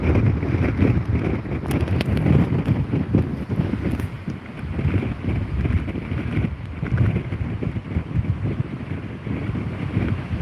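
Strong typhoon winds of Typhoon Bavi roar and buffet the microphone on the Jeju Island coast near Moseulpo, a continuous low rumbling gusty blast with surging waves underneath, loud and unbroken throughout.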